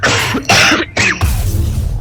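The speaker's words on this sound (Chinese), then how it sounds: "咳嗽比赛哦。" Several people cough in quick succession in a coughing contest among friends with colds, with harsh bursts separated by brief pauses, close and loud.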